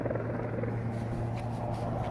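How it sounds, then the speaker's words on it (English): A helicopter drones low and steady with a rhythmic rotor thump, fairly close but not overhead, sustained throughout. "I hear a helicopter somewhere very close."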